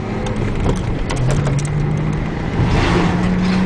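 A manual stick-shift car accelerates onto a main street, its engine note climbing steadily under continuous road and cabin noise, heard from inside the car.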